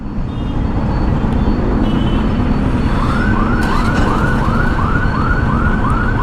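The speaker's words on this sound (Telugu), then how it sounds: "ఈడ వాకింగ్ చేసే పెడిస్ట్రియన్స్కి రోడ్ క్రాస్ చేసేటప్పుడు ఆ సౌండ్ వస్తుంది" A pedestrian crossing signal on a busy Bangalore road gives out repeated rising electronic chirps, evenly spaced, over loud steady traffic rumble.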